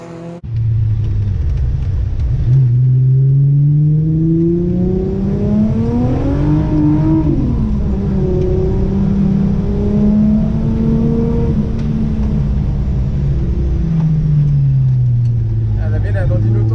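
Volkswagen Scirocco TSI with 280 hp driven on a race circuit, its engine droning loud and close, rising and falling steadily as it accelerates and shifts through the run.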